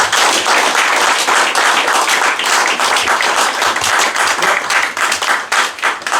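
A church congregation at an ordination service claps and acclaims the Lord, a dense, loud, continuous burst of many hands applauding together with a steady rhythm throughout.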